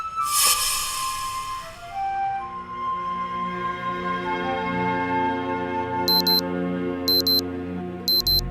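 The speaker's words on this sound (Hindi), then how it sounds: "ये तुम्हारा अलार्म भी ना बहुत ही अजीब है यार" An alarm clock goes off in a room. After a sharp, loud onset and a sustained ringing tone, three evenly spaced electronic beeps follow near the end, with no talking.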